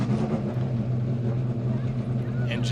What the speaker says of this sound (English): Engines are fired for Fanatec GT World Challenge America